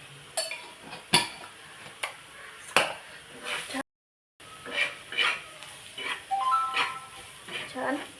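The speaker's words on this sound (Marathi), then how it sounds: "परतून द्यायचं आपल्याला" Egg tawa masala is sautéed in a pan with coriander powder and garam masala, heard as clinks and scrapes of a spatula over a soft sizzle, with a brief dropout midway and speech nearby.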